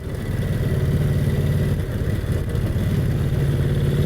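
A vintage Brough Superior SS80 motorcycle engine runs steadily with a rough, loping mechanical rumble, close by and unbroken for a few seconds.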